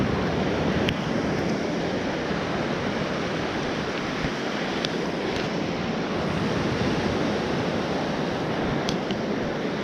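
Ocean surf rolls onto Old Orchard Beach, Maine, a steady, loud wash of breaking waves with wind buffeting the microphone throughout, no voices over it.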